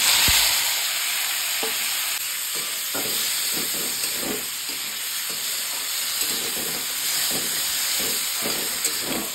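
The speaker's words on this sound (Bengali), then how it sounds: "মাখা হয়ে গেছে, এবার আমি তেলে ছেড়ে দেব।" Jackfruit fritters coated in turmeric and salt frying in hot oil, giving a continuous loud hiss and bubbling with a few faint clinks, with no talking.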